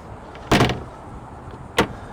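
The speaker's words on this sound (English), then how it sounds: "Your door also shuts to keep the wind off of you." A door on a 2024 Sea Ray SDX 270 outboard boat shuts with two sharp, close knocks about a second apart, with no talking.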